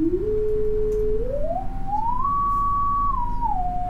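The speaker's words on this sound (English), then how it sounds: "what you're hearing is you're only hearing a tone at this frequency" A pure sine-wave tone with no harmonics holds steady, then steps upward in pitch in smooth glides, levels off, and drops slightly at the end, clear and alone over a low hum.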